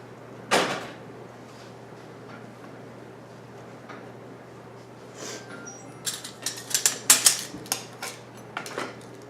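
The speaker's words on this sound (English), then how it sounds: "I'm going to move the pot out of my way here" A cooking pot is shifted aside on a home kitchen counter during spaghetti sauce canning: one sharp knock early on, then a close burst of clattering metal bumps and scrapes near the end.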